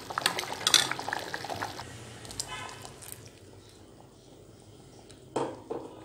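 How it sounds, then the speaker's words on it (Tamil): Coconut paste poured into a simmering pot of pea kurma, wet splashing and liquid sloshing with clinks of a jar or spoon against the pan, fading to a low bubbling before a final clank, close by. "இப்போ வந்து அந்த தேங்காய் பேஸ்ட்டை உள்ளே ஊற்றிக்கலாம்."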